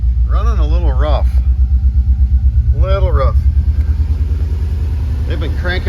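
Rough-running 2007 Subaru Outback engine with low fuel pressure, idling with a deep, lumpy pulsing rumble up close while a person talks over it in short bursts.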